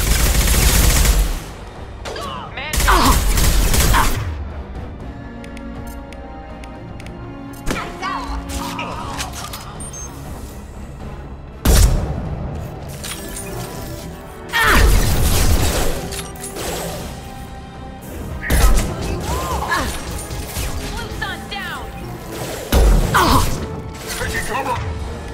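Bursts of gunfire crack out in a Mass Effect 2 video game battle, loud repeated volleys separated by quieter gaps filled with background game sound and occasional voices.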